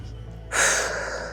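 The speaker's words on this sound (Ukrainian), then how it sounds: "ти робиш глибокий вдих, видих" Deep inhale and exhale during an upper-body warm-up workout, a sudden loud, airy breath that swells and then trails off, close to the microphone with no talking over it.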